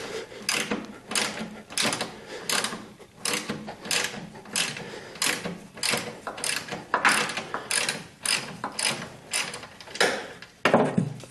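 A ratchet tightens a 3/8 inch self-tapping screw bolt into a body mount on a 1976 Corvette, producing rapid rhythmic clicking strokes in close succession, steady and near.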